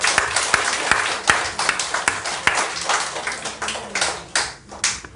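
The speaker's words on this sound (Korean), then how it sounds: "박수 한번 쳐주세요" Clapping from an audience at a Won Buddhist church service, a spread of sharp claps rising and thinning over several seconds, fairly close and lively.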